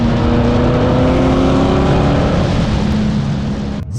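C8 Corvette accelerating hard in third gear on a no-prep drag strip, a loud, steady engine roar with a rising tone that holds for several seconds, then cuts off abruptly as the throttle is released near the end.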